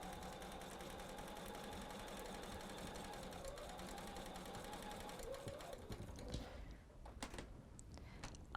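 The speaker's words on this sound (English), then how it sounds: "I'm going to follow right up, and I'm just sewing on my line right now" A home sewing machine stitches steadily along a marked line on a Christmas wreath quilt block, a continuous close motor whir with rapid needle clatter that stays even throughout.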